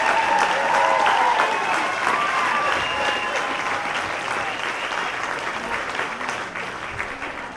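Sustained crowd applause for All-State American Legion baseball honorees at a state tournament, dense clapping with a few faint whistles and voices, steady then gradually easing.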